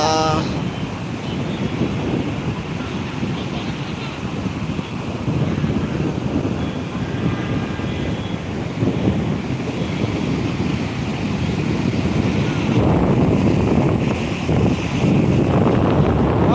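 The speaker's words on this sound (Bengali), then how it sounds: "বিশাল হাওয়া" Strong wind buffets the microphone on the beach at Puri, a constant loud roar mixed with the wash of surf, with faint voices now and then.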